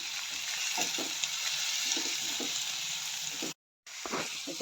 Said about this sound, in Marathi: छान व्यवस्थित कांदा परतून घ्यायचा